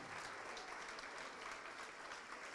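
A church congregation claps together in the name of Jesus, a continuous, even wash of applause filling the space from start to finish.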